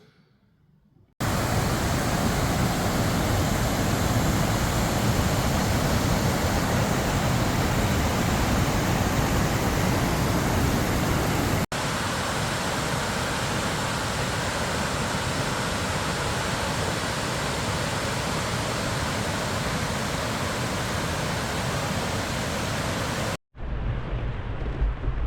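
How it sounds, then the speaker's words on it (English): Dynjandi waterfall in Iceland's Westfjords pours with a constant, loud broadband roar, briefly cutting out near the end. "I'm going to give you some quick shots of the waterfall"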